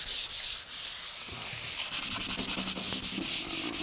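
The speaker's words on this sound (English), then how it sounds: "I always try to sand with the grain to finish everything off." Sandpaper rubs steadily back and forth along the grain of a solid wood door, a close, loud, rhythmic scratching with quick repeated strokes and no talking.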